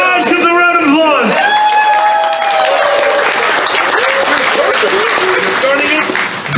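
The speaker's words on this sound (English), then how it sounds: "give the round of applause" Loud crowd applause with cheering and whoops at a charity fight event, while a voice talks and shouts over the clapping throughout.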